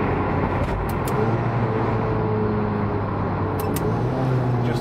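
A tuned VW Caddy van with a 386 bhp 2.0 TDI common-rail CFHD engine, DSG gearbox and 4Motion drive, revving hard toward about 5,400 rpm, a loud steady drone with rising harmonics that holds continuously.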